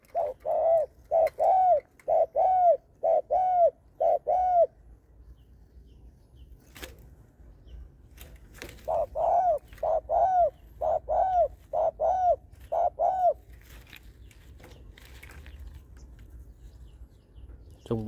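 A dove coos in two rhythmic bouts of about six or seven close, loud, throaty coos each, separated by a quiet pause, with no talking.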